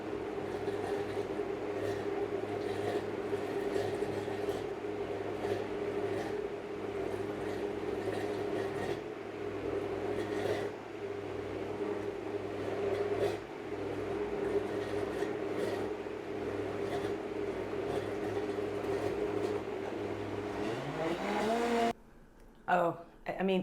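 A blender hums steadily for about twenty seconds, emulsifying olive oil into a stone fruit gazpacho while someone talks over it. The motor then cuts out abruptly near the end.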